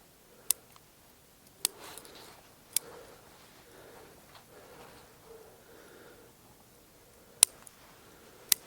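Scissors cutting back long branches on a dwarf spruce bonsai, about five crisp, isolated snips spaced irregularly against a quiet room background.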